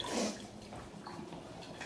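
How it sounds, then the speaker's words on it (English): Water running and splashing as a dirty bowl is rinsed at a kitchen sink, a brief louder gush at the start settling into a steady soft trickle. "I'm gonna take this dirty bowl straight back to the sink. Maybe give it a little rinse"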